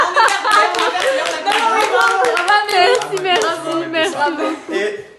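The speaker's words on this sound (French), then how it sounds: "Faut applaudir." An audience claps during a drawing-prize announcement. The brisk, close clapping comes in uneven bursts mixed with lively voices and some chuckling.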